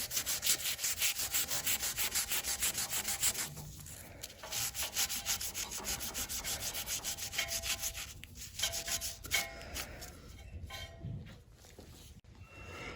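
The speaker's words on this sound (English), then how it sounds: "clean both your pipe and your saddle. Make sure to remove any oils that are already existing on your pipe." Steady abrasive rubbing on a pipe and saddle, cleaning off surface oils before epoxy goes on; continuous close scrubbing strokes for several seconds, easing into lighter, patchier scuffs near the end.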